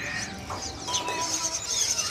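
Javan pied starling calling at a crowded bird market, its whistled notes mixed with other caged birds chirping and cooing in a dense, steady chorus.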